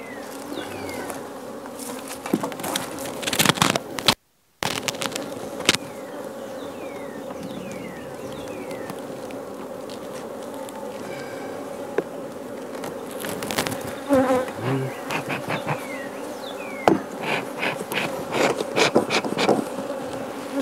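Honeybees being shaken into a starter hive buzz in a dense, continuous drone close to the microphone, with scattered knocks and thumps from the hive equipment.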